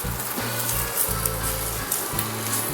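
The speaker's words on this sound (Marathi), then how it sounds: "तर आता ते खोबरं पीस पण टाकून द्यायचं पूर्ण" Coconut pieces fry in a pan for a homemade Nagpuri-style mutton curry, giving a loud, dense, continuous sizzle with crackling and low bubbling pulses, close up and with no voices.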